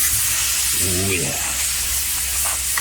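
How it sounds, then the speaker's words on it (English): A ribeye steak searing on a hot Blackstone griddle produces a loud, continuous roaring hiss from start to finish, with a man's brief exclamation heard over it. "This is what every steak should sound like as soon as it hits the griddle."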